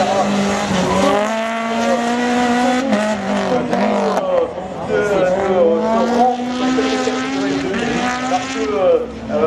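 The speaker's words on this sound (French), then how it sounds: "Au moment où je vous parle, d'autres pilotes s'exercent sur la piste" Race cars practise on a slalom course at the Lessay 2022 final, their engines revving high and rising and falling through gear changes, loud and near, with a commentator talking over them.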